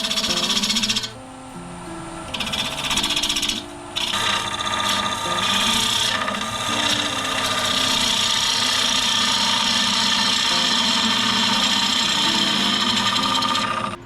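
Woodturning tool scraping and flattening the top of a wooden pot spun on a lathe, a loud, continuous rasping rub with a couple of brief pauses early on, then steady cutting to the end.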